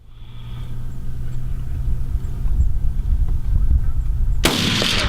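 A gunshot fired at a javelina from a hunting vehicle cracks out sharply near the end, following several seconds of steady low engine rumble, then rings on as a loud broad burst.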